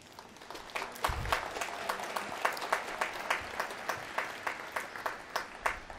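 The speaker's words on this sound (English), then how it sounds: "I'll let Tim and Cory know you applauded." Audience applause at a Harvard Law School Class Day ceremony, a crowd clapping steadily with sharp distinct claps over a broad wash, filling the whole stretch without speech.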